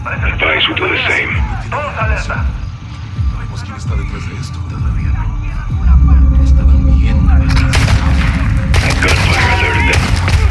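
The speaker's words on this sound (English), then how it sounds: "Gunfire alerted them." Gunfire in the video game Call of Duty Modern Warfare 2, with dense bursts of shots and heavy booms that build to a louder, steadier barrage midway, mixed with radio-like chatter and voices.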